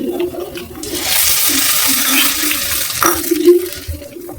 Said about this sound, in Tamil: கடுகு உளுந்து கருவேப்பிலை போட்டு தாளிச்சிக்கலாம்.